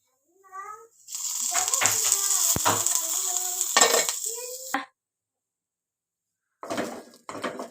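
Onions and tomatoes fry in oil in a pan for chutney, with sizzling and stirring scrapes close by. A voice talks over it, and after a sudden silence a second short burst of frying returns.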